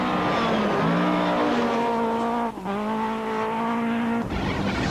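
A Volkswagen Golf rally car at full effort on a stage during the 2001 Mountain Trail, recorded from on board, with a loud, strained engine climbing through the revs, brief drops at gear changes, and tyre noise underneath.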